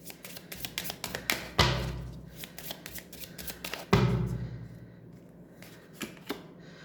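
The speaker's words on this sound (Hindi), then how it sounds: "यहाँ से भी मैं 4 कार्ड्स लूँगी" Tarot cards handled and drawn from a deck: a run of soft, close taps and slaps, with two louder card shuffles or spreads, and no talking.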